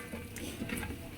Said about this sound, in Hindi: तो इसको थोड़ा भूनेंगे अच्छे से